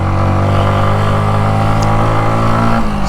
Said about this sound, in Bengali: সাউন্ড শুনতে পাচ্ছেন ইঞ্জিনের মনে হচ্ছে ইঞ্জিনটা মনে হয় মানে ঘর্ষণ করতে করতে আগুন ধরে যাবে